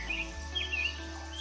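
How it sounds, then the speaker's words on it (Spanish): Small birds chirp in a home garden near a fountain on a country estate, light high calls scattered over a faint steady background with no voices. "disfrutar del sonido de los pajaritos"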